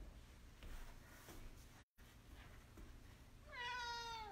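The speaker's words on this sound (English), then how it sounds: "He is meowing like a madman this morning." A male house cat meows in a rising, drawn-out call near the end, loud and close, after a stretch of quiet room noise with a brief dropout.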